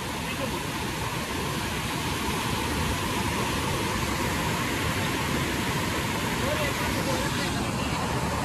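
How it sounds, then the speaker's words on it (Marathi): Kumbhe waterfall in Maharashtra, water plunging roughly 300 feet from the top, heard as a steady, dense roar of rushing water that stays constant from start to end. "ते कुंभे वॉटरफॉलचा जिथून पाणी पडतं तो वाला पॉइंट आहे"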